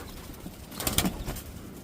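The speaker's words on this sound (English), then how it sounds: "These poor quail." Quail coo softly in a short, faint burst near the middle, with a few brief call notes over quiet background hiss.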